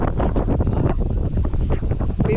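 Strong typhoon wind gusts across an open farm field, buffeting the microphone in loud, rough, continuous bursts with no voices.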